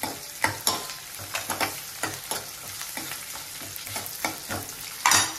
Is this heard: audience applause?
no